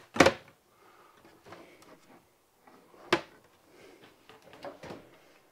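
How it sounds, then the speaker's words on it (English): Self-closing kitchen drawers in a 2017 Forest River Cedar Creek fifth wheel RV give soft wooden thumps and sliding clunks, a few sharp knocks spaced over several seconds, nearby and fairly quiet. "And all your drawers are self-closing"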